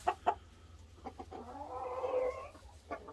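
Backyard chickens of mixed breeds, including White Leghorns and Ameraucanas, cluck faintly outdoors. There are a few short, separate clucks and a longer, drawn-out call in the middle.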